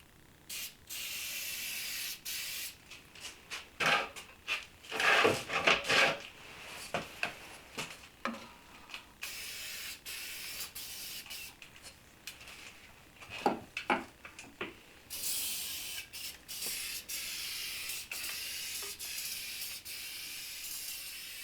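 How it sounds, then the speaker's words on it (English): Scotchgard fabric protector sprayed from an aerosol can onto a bench seat cushion, heard as a series of short and longer hissing bursts with pauses between them, close and fairly quiet, with no talking. "Now that I have the cushion in place, I am going to put 3 coats of Scotch Guard"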